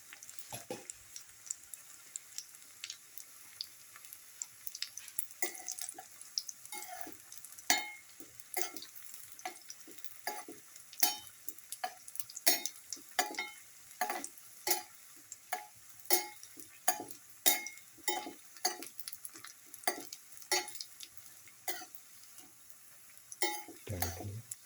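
Chickpea flour fritter batter fries in hot oil with a low sizzle, punctuated by a steady run of sharp ticks and clicks from a utensil, close and fairly quiet, with no talking.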